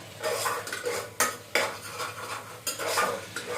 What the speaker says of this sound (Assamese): এতিয়া মই আকৌ লাৰি দিম এবাৰ